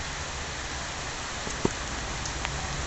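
Rain falling steadily outdoors, a soft continuous patter with a couple of brief louder drips or knocks standing out against the hiss.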